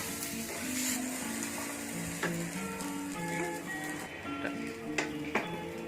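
A sweetcorn snack mixture being stirred in a hot pan, a soft continuous sizzle with light scraping and clinks from the utensil against the pan.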